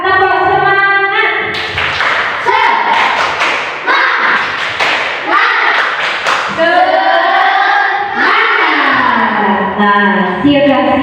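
A classroom of students claps a rhythmic 'tepuk semangat' spirit pattern, sharp hand thumps in quick bursts mixed with loud children's chanting voices echoing in the room.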